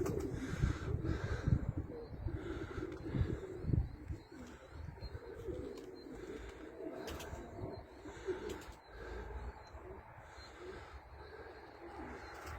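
Pigeons coo softly in repeated low, throaty bursts, mostly in the first few seconds, over a constant outdoor rumble and faint chirps.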